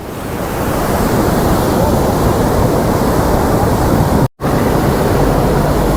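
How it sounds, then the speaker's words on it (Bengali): Cheeyappara waterfall in monsoon with strong water flow, a loud, steady roar of rushing water and spray, constant and close, briefly cut out for an instant. "এই ওয়াটারফলটার নাম হচ্ছে চিয়েপাড়া ওয়াটারফল। ফোর্স দেখেছো জলের?"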